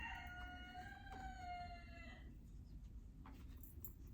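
Rooster crowing with a long harmonic call that fades after about two seconds, then a few faint clucks over steady low background rumble; no talk.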